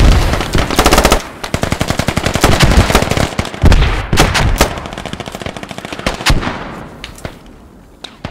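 Loud, dense automatic gunfire fills a battle in the military shooter game Squad, with rapid bursts and overlapping shots that thin out into scattered, more distant rounds toward the end.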